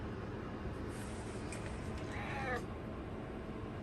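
A house cat lets out a single drawn-out meow midway through, fairly faint against steady indoor background hiss near a cat door.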